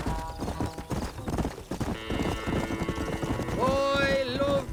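Horse hooves clip-clopping at a gallop in the Red Dead Redemption game, a steady, close rhythmic beat under background music.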